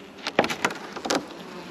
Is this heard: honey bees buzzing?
yes